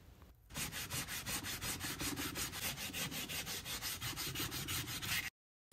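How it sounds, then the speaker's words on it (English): Rapid, steady back-and-forth wet sanding by hand on a Jesmonite terrazzo tray, a rhythmic scratchy swish repeating about five times per second, then abruptly stopping. "To finalize the wet sanding, we are going to use a 400 grit"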